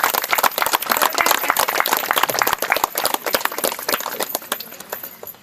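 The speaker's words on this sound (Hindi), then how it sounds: "जोरदार तालियों के साथ" Crowd applause at the inauguration of a rural market, dense and energetic clapping from many hands filling the whole stretch, loud and close, then thinning slightly toward the end.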